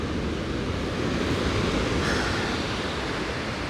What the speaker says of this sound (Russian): огромные волны, трехметровые, там он вообще какие-то большие, море стало мутное